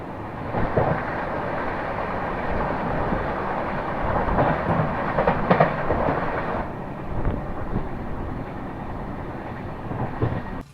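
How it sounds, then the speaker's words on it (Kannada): Continuous rumble and rattle of the Deccan Queen Express rolling along the tracks into Karjat railway station, with rhythmic clatter and occasional metallic clanks, fairly close. "ನಾವೀಗ ಕರ್ಜತ್ ರೈಲ್ವೆ ಸ್ಟೇಷನ್ನ ಎಂಟ್ರ್ ಆಗತ್ತೀವಿ ರೀ"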